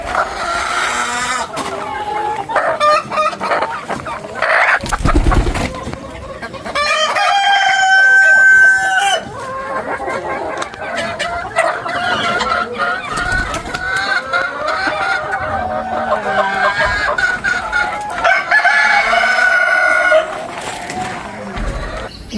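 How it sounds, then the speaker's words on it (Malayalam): Native country chickens, including Giriraja birds, cluck steadily while roosters crow loudly in long drawn-out calls, with several crows overlapping through a busy, continuous barnyard chorus. "നാടൻ കോഴി കൊണ്ടാണ്."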